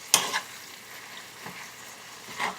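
Hamburger meat frying in a pan with garlic powder and salt is stirred, giving a few brief scraping, sizzling bursts with quiet sizzle between them.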